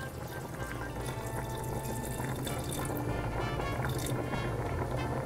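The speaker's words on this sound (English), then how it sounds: "We're gonna add a little bit of water." Water is poured into a cooking pot in a home kitchen while an Italian comfort dish is being made, a steady, continuous splashing and trickling that stays close and fairly quiet with no voices over it.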